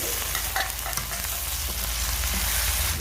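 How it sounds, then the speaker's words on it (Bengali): Onion, garlic and ginger fry in a pan with a loud, continuous sizzle, broken early on by a few scraping stirs, and no one speaking. "এগুলো একটু ভালো করে ভেজে নেব যাতে কাঁচা গন্ধ চলে যায়"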